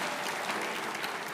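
A church congregation breaks into a steady wash of applause, many hands clapping together at a moderate distance.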